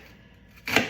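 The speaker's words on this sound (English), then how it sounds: "you make cuts into the onion" A single sharp knife chop into an onion on a cutting board lands near the end, after a quiet moment.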